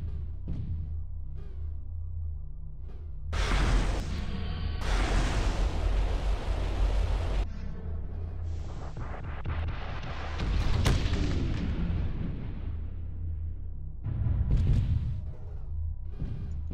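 Gauss rifle and PPC weapons fire in Mechwarrior Living Legends, heard as repeated heavy booming blasts and crackling energy bursts over a constant deep rumble, with no voices.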